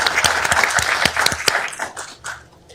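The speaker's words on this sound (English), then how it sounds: "I'll give you a round of applause." Audience at a city council meeting applauds, a dense burst of clapping with sharp individual claps that thins out and fades toward the end.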